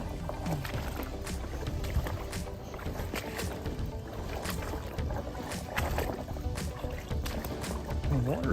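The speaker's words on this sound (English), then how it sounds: "the water's flowing pretty good." Floodwater flowing over a trail in a regional preserve, a continuous rushing and splashing wash with wind buffeting the microphone and a voice speaking intermittently.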